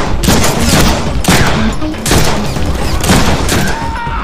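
Loud gunfire from the Deadpool video game comes in several dense bursts, each lasting about a second with short gaps between, close and overpowering.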